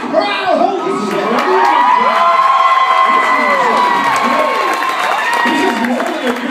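A large live comedy show audience roars with sustained cheering, shouting and whoops, loud and continuous throughout, with high excited voices rising above the crowd noise.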